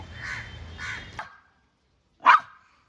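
Two harsh caws from a crow close by, then a pause and one more sharp caw; otherwise quiet.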